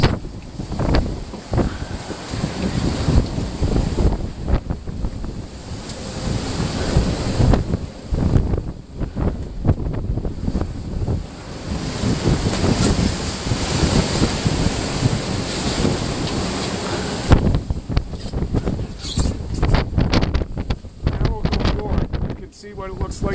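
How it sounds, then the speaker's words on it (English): Heavy ocean waves and breaking white surf during Tropical Storm Sean at Beaufort force 10, heard from aboard a sailboat. A continuous loud roar of surf and howling wind buffets the microphone throughout, with surges as waves break. "You'll see a couple of waves combined into what they call a galloping horseman. It just makes this huge pile of white surf."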